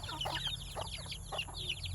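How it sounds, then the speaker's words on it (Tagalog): Soft clucking and high peeping calls from a hen and small chicks, close by, in repeated bursts over a steady low background hum. "Ito na yung inahin na may bagong anak,"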